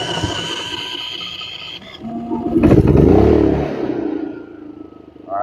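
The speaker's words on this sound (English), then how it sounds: "Let's get the generator running. Power, fuel, and start." An A-iPower GXS7100iRD 7100-watt dual fuel inverter generator starts with mechanical clatter, then its engine swells into a loud, rough running roar that eases back to a steadier idle.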